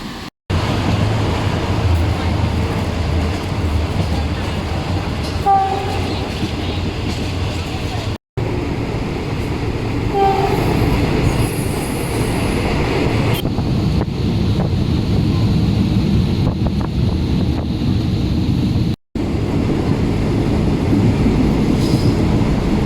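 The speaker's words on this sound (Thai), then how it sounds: "เดี๋ยวเรา รอช่วงรถไฟออกตอน ใกล้ๆเจ็ดโมงตามรอบเวลาแล้วกัน" A train departing from the station rumbles steadily for a long stretch with heavy low-frequency noise and wind buffeting, interrupted by a couple of abrupt cuts; faint voices occasionally.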